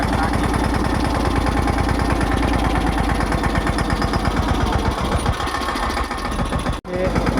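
Tractor engine chugging nearby in a cotton field, with a loud steady rhythmic throb that briefly dips near the end while someone talks over it.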